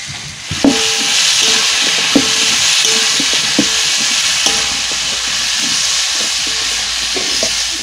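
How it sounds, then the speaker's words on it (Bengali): Spices frying in a pan for rui fish curry, with a steady loud sizzle throughout and faint intermittent scrapes and clinks of a spatula stirring, close up, with no talking. "মশলাগুলো দিয়ে ভালো করে কষিয়ে নেব"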